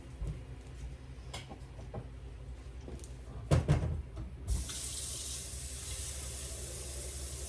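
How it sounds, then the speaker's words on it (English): Water runs from a kitchen faucet into a soup pot for hamburger soup, a steady hissing gush that starts midway after a few clunks and knocks and continues close and even to the end. "I can go ahead now and add me some water in there, y'all."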